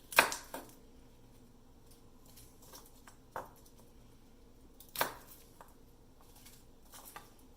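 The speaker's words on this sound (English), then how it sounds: "I'm just cutting off the woody little tips of the garlic cloves, which is going to make it easier to peel" Knife slicing the hard woody tips off garlic cloves on a cutting board, a few sharp, isolated chops spaced a second or two apart, with quieter taps and small shuffling noises between them.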